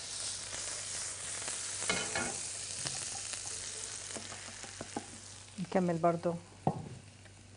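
Sliced mushrooms sauté in melted butter in a frying pan, giving a soft, steady sizzle broken by spoon scrapes, while someone speaks briefly near the end.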